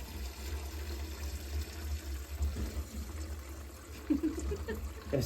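Water drains from a home heating circuit into a bucket with a steady, low splashing trickle and occasional gurgles, while faint voices can be heard in the background.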